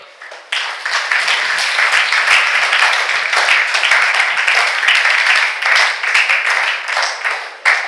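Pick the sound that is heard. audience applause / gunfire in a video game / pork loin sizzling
audience applause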